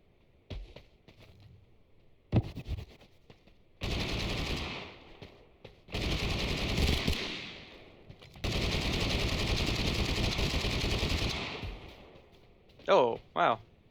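Long bursts of rapid automatic gunfire in the video game Totally Accurate Battlegrounds, with a few single shots and sustained volleys broken by short gaps, and a voice briefly under the shooting.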